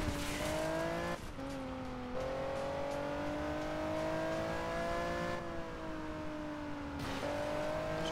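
A video game car engine hums steadily while driving in a German police action game, the pitch rising and falling gently with throttle changes and a couple of brief dips where the note shifts, close and continuous with no talk.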